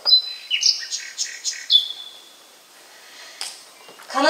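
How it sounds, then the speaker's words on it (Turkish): A sparrow chirping sound effect plays during a stage play: a run of bright, clear chirps and short tweets, fairly close, then a brief pause before a few more calls at the end. "Serçe mi bu?"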